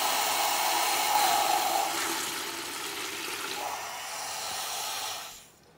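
Water drains from a hot water heater into a 5-gallon bucket in a basement, giving a steady hissing rush that slowly changes pitch as the bucket fills, then quickly fades to quiet near the end.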